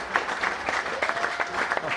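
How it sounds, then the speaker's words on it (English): Football crowd at Basingstoke Town v Slough Town, fans and both benches on their feet applauding the departing Basingstoke captain; steady sustained clapping fills the scene with a commentator's voice over it. "up on their feet applauding the Basingstoke captain as he departs for the final time for his hometown club"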